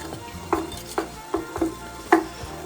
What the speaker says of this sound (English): I'll stir that up.